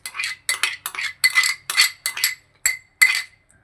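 Chopped fruit being mixed in a bowl with metal utensils, a steady run of about eight distinct clinking scrapes in an even rhythm, close and alone without talk.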